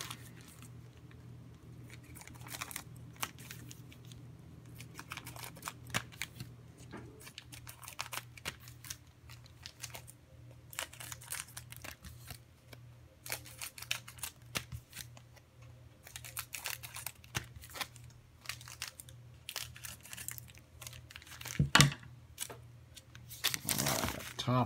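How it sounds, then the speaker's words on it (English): Scissors snip the sealed tops off seven 2018 NBA Threads trading card packs from a blaster box, a run of short sharp cuts and crinkly foil rustles close by, with a low steady hum underneath and no talking. "Let's go ahead and snip the tops"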